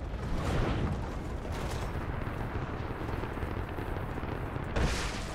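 Trebuchet firing in Rise of the Tomb Raider, a broad rumbling crash with a dense noisy roar that swells, holds and then gives way to a second burst near the end.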